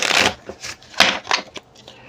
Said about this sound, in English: One little shuffle.